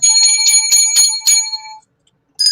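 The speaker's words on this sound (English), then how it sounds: "And we got another bell. There you go. There's the bell." A bell rings in bright, sustained metallic strikes, close and loud. About six rapid hits blend into a ringing run, then fade into silence before a single fresh strike at the end.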